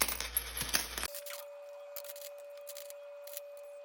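Loose coins from a tricycle driver's day of earnings in Antipolo jingle and clatter as they are dropped and counted by hand, a close cluster of metallic clinks in the first second followed by a few faint taps over a steady hum.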